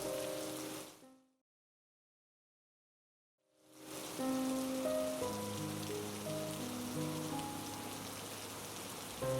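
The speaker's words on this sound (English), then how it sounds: "The rain started to pour heavily out." Heavy rain pours in a steady dense hiss that fades out, drops to silence for a couple of seconds, then returns at full strength with faint tonal sounds layered over it.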